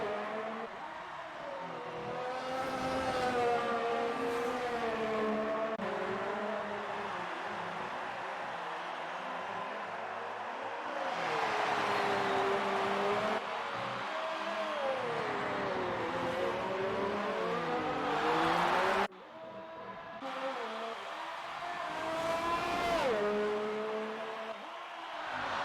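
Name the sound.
race cars in sim racing video game, Singapore GP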